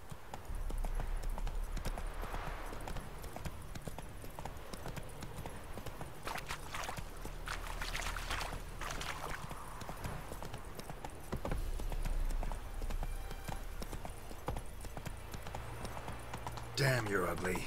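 Clip-clop of horse hooves as the rider travels in The Witcher 3: Wild Hunt, a steady galloping rhythm that plays all the way through, with a low game score beneath and speech over the top.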